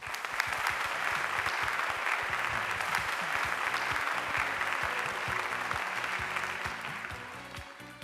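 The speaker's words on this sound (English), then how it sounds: "Let us really give him a hearty round of applause" At a Singapore Ceylon Tamils Association centenary event, a hall audience gives an award recipient hearty, sustained applause, full and even throughout before tapering off slightly at the close.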